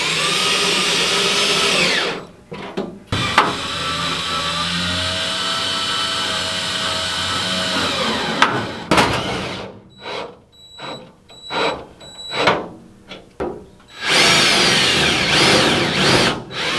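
A power drill drives tech screws into a Mazda Miata drop floorpan from a 5X Racing kit. Long loud whining runs alternate with short stop-start bursts and brief pauses, close up with no talking.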